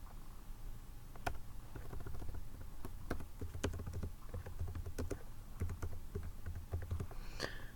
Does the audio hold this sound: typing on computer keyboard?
yes